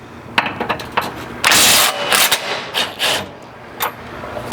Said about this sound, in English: now I'm gonna loosen and then remove these final 2 bolts